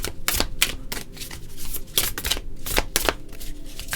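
Tarot cards are shuffled in a series of quick, crisp riffling bursts, close up and loud, with brief pauses between them.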